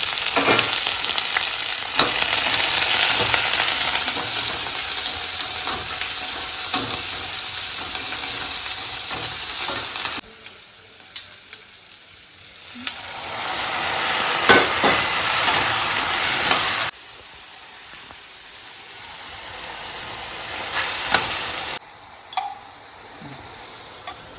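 Onions and green chillies fry in hot oil and ghee with whole spices for a drumstick biryani, a steady close sizzle broken by stirring and scraping, with brief pauses and quieter stretches.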